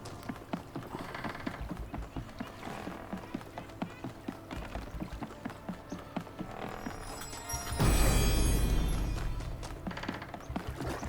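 Horse hooves clip-clop steadily in the video game The Talos Principle 2, an even trotting rhythm of sharp taps, with a loud whooshing burst partway through before the hoofbeats continue.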